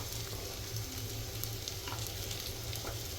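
Pasta sauce with turmeric, chili powder, coriander and garam masala sautéing in a pan with salt, a steady close sizzle with faint stirring scrapes throughout, no voices.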